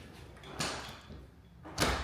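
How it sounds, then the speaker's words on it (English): A sliding barn door rolls along its track twice, each a brief rolling whoosh, fairly close in a quiet room of a new home. "Makes it real nice to open and close the barn door."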